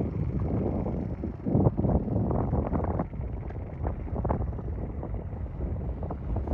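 Strong, steady wind buffets the microphone out on frozen Pelican Lake in Manitoba, Canada, during an ice fishing derby at minus 11, a loud continuous low roar with gusty surges and no speech.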